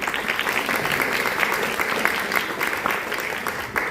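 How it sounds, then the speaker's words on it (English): Audience members at a judicial inauguration ceremony in Los Angeles clap steadily, a dense, continuous patter of many hands filling the room. "Please hold your applause, this is a long list."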